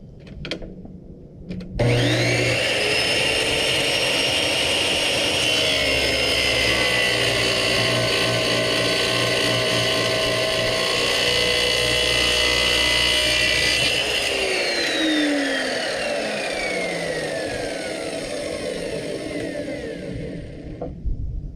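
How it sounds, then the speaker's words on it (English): An Evolution Rage4 chop saw with a Diablo Steel Demon blade cuts 1/2-inch rebar, a loud steady metallic whine after a brief start-up, held for about twelve seconds before winding down as the blade spins out. "rebar into the saw using this screw vise here, and then we'll try cutting it."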